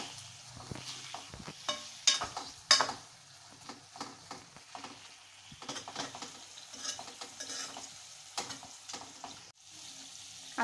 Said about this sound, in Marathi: आता आपण फ्राय केलेले बटाटे यात टाकायचे। व्यवस्थित सर्व मिक्स करून घ्यायचे।